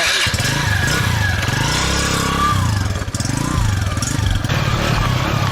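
Motorcycle engine running close by in a continuous, steady drone, with the pitch shifting slightly as it revs and settles, and a brief dip in level partway through.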